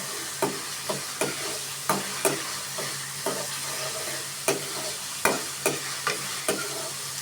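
Food for a bottle gourd dal fries in a pan while a spoon stirs it, giving regular sharp scrapes and taps about once a second over a constant bright sizzle, close up with no voices.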